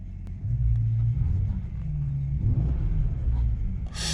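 Low, steady engine rumble of a Mercedes-Benz S550 with a tuned exhaust, valve closed, heard from inside the cabin, muffled and fairly quiet, with no voices over it.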